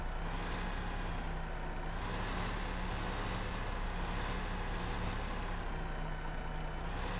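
A truck's engine drones steadily while backing a trailer in Farming Simulator 2015, a continuous even hum with a low tonal whine, moderately loud and close, with no talking.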